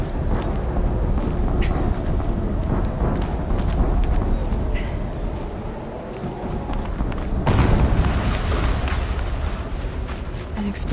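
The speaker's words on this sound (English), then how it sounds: "An explosion." Explosion in the video game Horizon Zero Dawn: a busy rumbling game soundscape with thuds, then a louder broadband blast swelling near the end before settling back.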